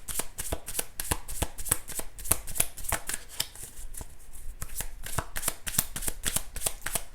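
Tarot cards being shuffled in steady, rapid riffles and slaps, close and clear, a continuous run of crisp card flicks with no talking.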